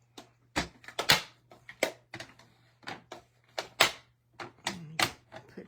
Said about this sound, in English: Now we're going to cut our butterflies.